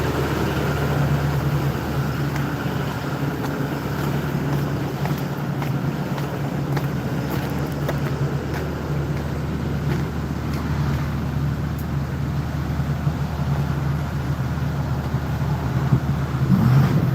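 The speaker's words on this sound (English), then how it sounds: "does he want to look at the exhaust when I rev it up" A bus engine runs steadily and close by, a constant low rumble with a strong hum that holds through the whole stretch and shows no distinct rev swell.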